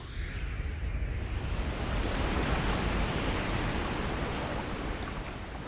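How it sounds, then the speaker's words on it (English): Raging whitewater where the Colorado and Green rivers meet in Canyonlands National Park, a dense, steady roar of rushing rapids that swells slightly midway and fills the whole stretch without any voices. "Where the two rivers collide, the Colorado and the Green, the rivers that carved these canyons, they're transformed into raging whitewater."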